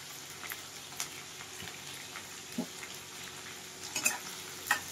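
Chopped onion frying in a pan makes a soft, fairly faint crackling sizzle with scattered pops and a few light spatula taps.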